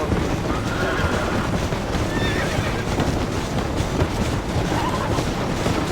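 A horse in Red Dead Redemption gallops with rapid, continuous hoofbeats under a rushing wind-like roar, and several high neighs rise over the drumming.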